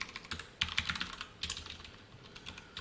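Brisk typing on a computer keyboard while writing an SQL index statement, a steady stream of close, crisp key clicks with uneven rhythm and no talk over it.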